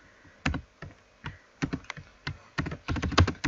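Keys clatter on a computer keyboard in uneven bursts of quick taps and single presses, close and fairly quiet, with no talking.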